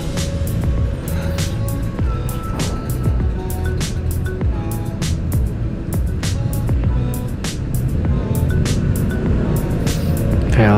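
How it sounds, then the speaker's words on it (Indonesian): Congested road traffic near Malang, heard from a motorbike: a loud, constant rumble of idling and creeping engines, with sharp bursts and clicks breaking in now and then, close to the rider and with no talking. "Ini macet kenapa coba?"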